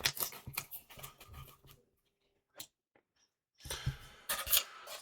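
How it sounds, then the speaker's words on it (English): Paper walls for tabletop house terrain being trimmed: bursts of crisp snipping and paper rustling, a pause of near silence with a couple of isolated clicks, then a final run of cutting, close and fairly quiet. "So I'm just going to quickly trim those, trim that"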